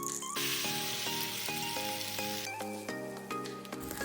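Bread omelette with onion, green chili and coriander sizzling loudly in a pan, a steady close frying hiss with light clinks of a utensil over continuous music.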